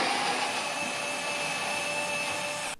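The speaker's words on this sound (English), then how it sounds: "Let's see what the Torx semi-auto screwdriver can back out." A Worx semi-auto screwdriver backs out a torqued screw with a steady high-pitched motor whir and faint gear whine, close and continuous before cutting off sharply at the end, with no talking.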